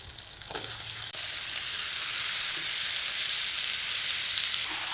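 Washed mutton pieces hit spices in a hot kadai and sizzle loudly. The hiss stays constant and close, with a brief knock near the start.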